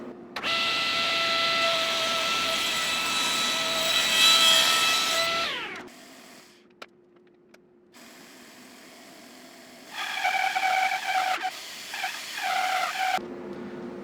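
Hand sawing through a wooden board, a loud continuous rasping stroke for about six seconds, then a quiet gap with a few small knocks, followed by a shorter burst of sawing toward the end.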